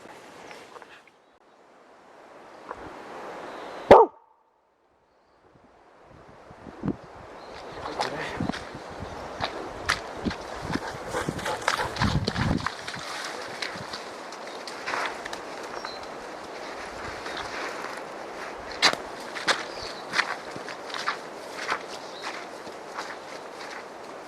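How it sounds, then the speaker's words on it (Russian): A dog wades through a swamp, splashing, sloshing steps through shallow water and mud, steady and close for most of the clip after a brief quieter start, with scattered sharper splashes. "Собака болото преодолевает и заодно купается"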